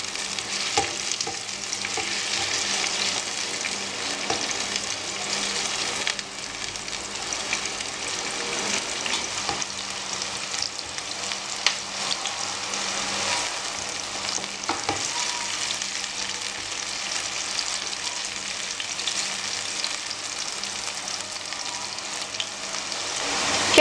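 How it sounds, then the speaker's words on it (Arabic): Onions sautéing in a pan for fajitas, a long unbroken hiss of frying oil at steady loudness with occasional soft spatula scrapes and stirring knocks, no one speaking. "كده شوحنا البصل حاجة بسيطة"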